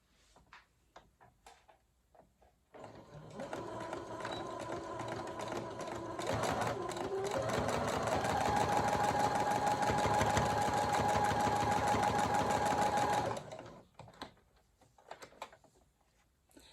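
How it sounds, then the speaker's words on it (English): Sewing machine stitching a rounded ruffle in black fabric, starting with short bursts, then a long steady run of rapid mechanical chatter before stopping, with soft handling clicks around it. "so to the sewing machine we go"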